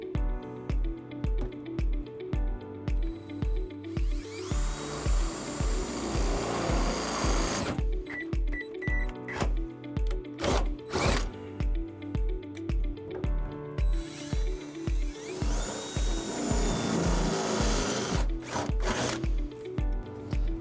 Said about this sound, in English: We'll be using a 1/2-inch drill bit.